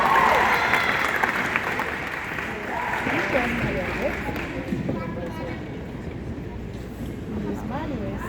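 Audience at a middle school band concert applauding a named student, a broad patter of clapping that fades gradually while voices murmur and speak over it.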